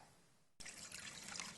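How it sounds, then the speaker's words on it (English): Water trickles and drips quietly somewhere along a desert mountain trail in the Superstition Mountains, a soft splashing that starts abruptly after a near-silent moment and continues faintly. "Even on this trail, there's water coming from somewhere."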